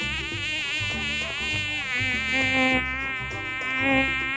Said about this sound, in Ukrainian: Дзвенить комарик.